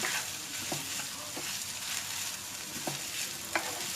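Leftover rice for Chinese fried rice frying in a hot pan, with a steady broad sizzle and a few sharp scrapes and knocks from stirring at irregular intervals, close and fairly loud with no voices.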